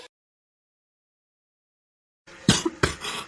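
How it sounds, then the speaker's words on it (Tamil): After a long silence, a few sharp coughs burst out close by, two or three harsh hacks in quick succession. "நீங்க ஏன் இருமிக்கிட்டே இருக்கீங்க?"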